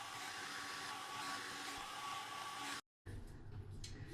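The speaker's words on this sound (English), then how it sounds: "Just gonna run my hair with the big blow dryer first." A large handheld hair blow dryer runs at home with a loud, steady whooshing roar, briefly cutting out before starting again at a lower, rougher setting.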